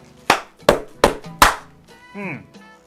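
Four loud, separate claps spaced about a beat apart, given as a cup clap by a man at an evening record night, followed by a short voiced sound.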